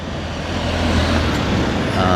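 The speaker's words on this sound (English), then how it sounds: "we got more cars here, and they're not stopping." Cars roll past a road crosswalk without stopping, a steady close rumble of traffic swelling and fading over a couple of seconds.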